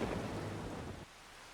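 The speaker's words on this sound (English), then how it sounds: "we've got rain" Steady rain with a low thunder rumble in the Farming Simulator video game, a loud dense wash that drops in level about a second in and continues more softly.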